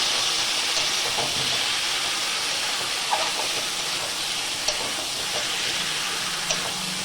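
Prawns fry in masala in a pan with a continuous hissing sizzle, broken by a few faint clicks of stirring, steady and close with no voices.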